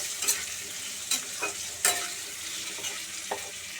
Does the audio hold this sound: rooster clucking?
no